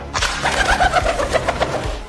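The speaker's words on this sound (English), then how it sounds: "Here is the pigeon." A pigeon coos close by in a soft, rolling series of warbling notes, loud and clear, with no voices.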